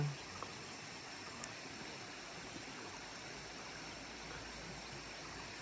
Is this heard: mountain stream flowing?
yes